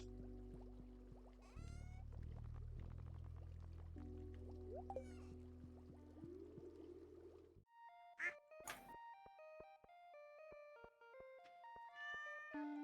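Cat meowing in the farming video game Stardew Valley, several short game-sound calls mixed with quacking ducks and background music, fairly quiet.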